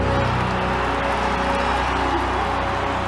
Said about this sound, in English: The crowds here, they were just erupting.